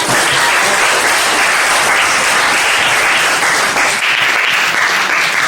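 Students in a classroom applaud together, a loud, continuous wash of clapping that stays even for several seconds before easing slightly near the end.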